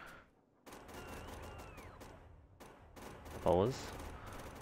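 Rapid gunfire bursts from shooting bots in the video game RailWorld, clattering over a low game background, with a brief voice speaking partway through.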